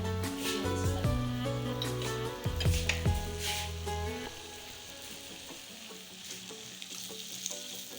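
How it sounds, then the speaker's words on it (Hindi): Potatoes for a Spanish omelette sizzle and fry steadily in a hot pan over high heat, with a tonal hum and occasional clinks early on, the crackling continuing alone. "कितनी प्यारी फ्राई होने की आवाज़ आ रही है इसकी"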